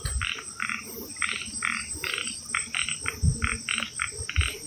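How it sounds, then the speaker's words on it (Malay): Frogs croak at night in the rain beside a drainage channel near a hillside house, with repeated short calls in a steady, overlapping chorus close by and a constant insect-like hiss behind them. "Katak. Binatang ni."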